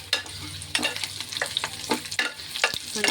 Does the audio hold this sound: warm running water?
no